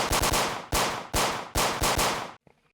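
Four loud, punchy gunshot bursts, each with a short metallic rattle, fire in quick succession, followed by a faint clatter and silence.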